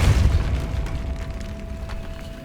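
A Depulso spell in Hogwarts Legacy goes off in a catacomb as a deep booming blast at the start, then fades into a low rumbling tail with a faint steady tone.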